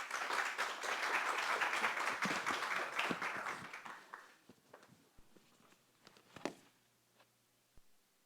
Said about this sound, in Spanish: entonces les damos un aplauso